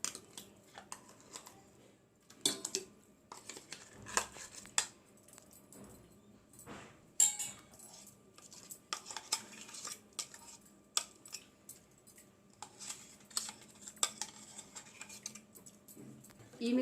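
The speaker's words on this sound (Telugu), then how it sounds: "ఈ మిశ్రమాన్ని ఇలా వాటర్లో కలిపేసాను" Horse gram paste is stirred into water in a cooking pot for soup, giving faint, irregular clinks and scrapes of a spoon against the pot over a quiet kitchen background.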